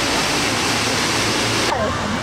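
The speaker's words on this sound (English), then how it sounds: "Oh look, that's the mini waterfall." A small waterfall pouring as a loud, steady broadband rush of falling water, close by and continuous throughout, with a voice briefly heard over it near the end.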